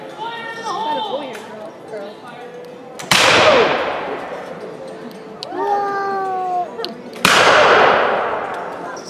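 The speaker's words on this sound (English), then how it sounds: "75 caliber blunderbuss, rolling fire!" Two loud, sharp black powder blasts from 75 caliber blunderbuss weapons at a pirate demonstration, several seconds apart, each with a long echoing tail, while someone shouts commands in a sing-song voice before each shot.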